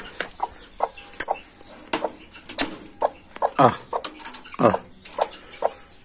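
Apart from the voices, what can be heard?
chickens being let out, clucking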